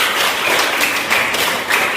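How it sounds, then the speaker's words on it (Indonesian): Schoolchildren in a classroom applaud a classmate with dense, steady clapping that fills the whole two seconds at close range, with no talking. "Oke, tepuk tangan buat teman kita."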